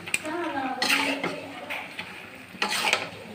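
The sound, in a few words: stirring chicken curry with tomato in a pan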